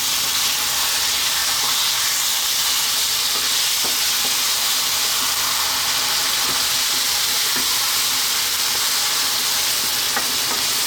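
Yogurt is stirred into a sizzling chicken curry, giving a loud, continuous hissing fry with occasional soft scraping clicks from the stirring.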